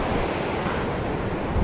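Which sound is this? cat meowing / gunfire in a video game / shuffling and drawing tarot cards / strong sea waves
strong sea waves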